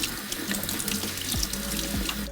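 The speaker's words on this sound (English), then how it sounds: "That's why I like to always rinse my canned beans well" Canned beans rinsed under a running kitchen tap, a steady close hiss of water splashing into a sink with small gurgles and a couple of brief knocks, no voices.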